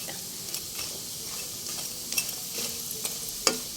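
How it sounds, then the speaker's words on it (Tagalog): Kikiam fish balls frying in a pan, with a steady quiet hiss of oil broken by occasional light scrapes and taps of a utensil, close by and without speech. "Yan naman ang niluluto ko ngayon. Kikiam Pacific Cats."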